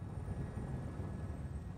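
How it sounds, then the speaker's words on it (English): Helicopter at a Tokyo heliport after an earthquake, landing with a steady low rotor and engine drone that holds even and fairly quiet throughout, with no voices. "helicopter is given the all-clear to land"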